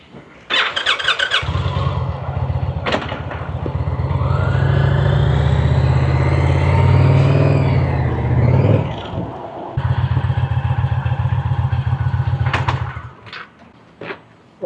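A 2025 Indian Chieftain PowerPlus 112 motorcycle rumbles loud and close, with a low throbbing idle that swells into a sustained revving ride, drops off briefly, then returns to a steady idle before cutting out.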